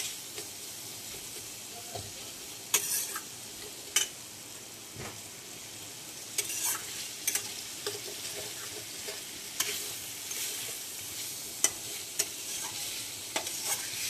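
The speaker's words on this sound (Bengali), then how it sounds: "এটা ভালো করে ভাজতে হবে।" Ginger and onion fry in a pan, giving a quiet steady sizzle broken by sharp scraping clicks as a spatula stirs them at irregular intervals.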